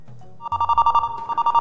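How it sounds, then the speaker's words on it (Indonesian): A telephone rings with a loud, close electronic ringtone, a rapid pulsing trill starting after a low tone, repeating in steady bursts. "Oh, udah masuk telepon."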